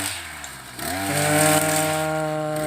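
A grass cutter's small engine drones steadily and close by, dipping briefly then climbing to a higher, sustained whine as it trims.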